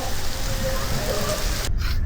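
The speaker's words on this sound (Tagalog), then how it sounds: "Biglang bumagsak ang ulan." Heavy rain suddenly pouring down during a bike ride in Barcelona, a loud steady wash of broadband hiss across the whole clip, then briefly muffled near the end before the downpour roars back.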